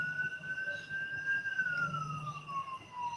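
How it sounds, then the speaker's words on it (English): A police car or ambulance siren passes by, its steady electronic wail holding pitch and then sliding lower as it moves away, moderately loud over a low rumbling street background. "about every time you're on live, you got a cop or an ambulance go by."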